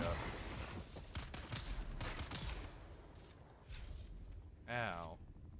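Gunfire in the Dune: Awakening video game, including sniper shots, cracks out as a scatter of sharp reports over continuous game noise, followed by a brief louder burst near the end.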